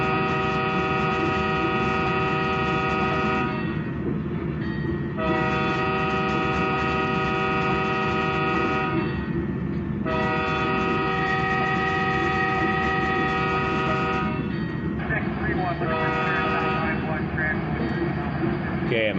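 A locomotive horn in a train simulator sounds for a railroad crossing, several long loud blasts in a pattern with short gaps, over a steady low engine drone as the train climbs a hill.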